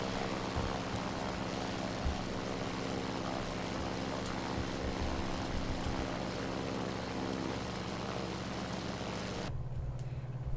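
A World War II F4F-4 Wildcat propeller fighter in a flight simulator game, a steady droning engine hum with propeller buzz running throughout, cutting off abruptly near the end.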